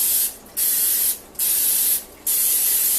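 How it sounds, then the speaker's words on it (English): Cooking spray hisses from a can onto an egg puff pan in three bursts of about half a second to a second each, separated by short pauses, close and fairly loud. "So we're just going to spray each one."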